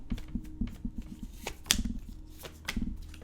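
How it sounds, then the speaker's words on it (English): Tarot cards being shuffled by hand at close range: a run of soft, quick riffling taps and flicks, with a few sharper snaps breaking through the steady patter. "Last shuffle."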